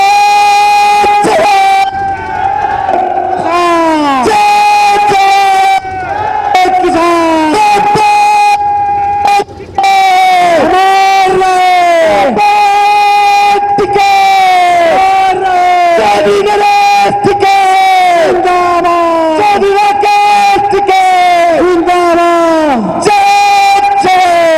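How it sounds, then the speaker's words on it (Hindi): A farmers' crowd at the Delhi–UP (Noida) border blockade chants protest slogans, with loud voices rising and falling in repeated phrases that carry on steadily, close and full throughout. "इसी के साथ में मैं 2 नारे लगाना चाहूंगा, सभी मिलकर मेरे किसान भाई जो साथ में खड़े हो और जो जवान भी नारे जोर से लगाए।"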